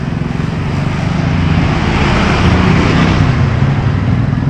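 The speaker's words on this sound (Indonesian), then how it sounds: "ini ada banyak motor mobil nih" A steady, loud roar of road traffic, motorbikes and cars streaming past close by on a busy street, a continuous engine rumble with no breaks and no talking.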